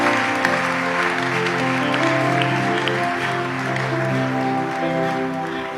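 A church congregation claps and cheers in praise of the Lord, a dense, steady wash of applause lasting throughout, with musical tones and voices blending underneath.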